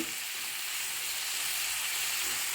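Tomato with coriander powder, chili powder, turmeric and garam masala roasting in a pan gives a steady, even sizzle and hiss throughout, moderately loud with no voices.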